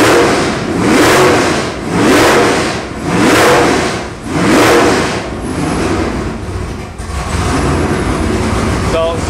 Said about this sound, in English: So I want to show you the rev.